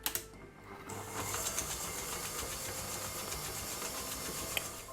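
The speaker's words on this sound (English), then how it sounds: "Now using a hand mixer or a stand mixer, we're going to beat this through until it's nice and creamy." A hand mixer beats butter and brown sugar for eggnog cookie dough, a steady whirring motor hum running continuously at close range with faint rattling from the beaters against the bowl.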